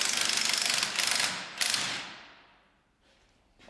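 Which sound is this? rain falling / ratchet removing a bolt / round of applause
ratchet removing a bolt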